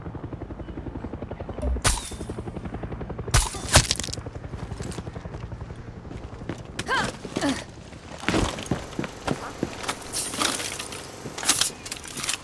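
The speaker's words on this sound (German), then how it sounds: "Helikopter" Helicopter in the Far Cry 6 video game, its rotor rumble running steadily through the scene under repeated sharp crashes and impact bursts from combat.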